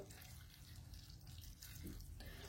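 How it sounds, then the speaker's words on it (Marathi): Water poured into a kadai of green chillies and peanuts for a sorrel leaf curry, a brief continuous close splash and gush. "पाणी टाकून घेऊ।"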